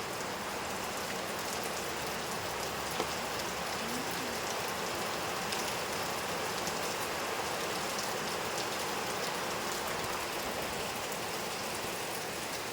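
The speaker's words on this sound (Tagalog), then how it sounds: "Ayan yung lakas ng ulan." Heavy rain pours down on an island during a storm, a constant dense hiss of drops hitting surfaces that stays steady and unbroken throughout, with no voices.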